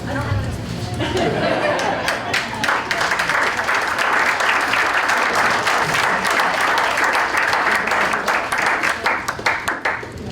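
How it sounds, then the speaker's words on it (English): Loud, sustained crowd applause for Renee at a school athletic hall of fame ceremony, dense clapping mixed with chatter and cheering voices, steady across the whole stretch before tapering slightly at the end. "Come on, applause for Renee."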